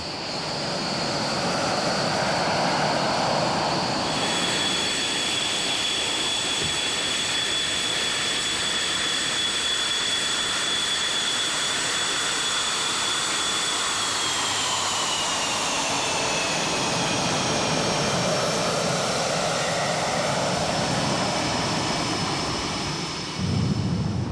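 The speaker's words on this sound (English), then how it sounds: "The squadron is flying in force today." Tornado jet bombers of an RAF squadron on a combat exercise roar overhead, a loud sustained jet-engine rumble and whine whose pitch slowly drops as they pass, heard alone.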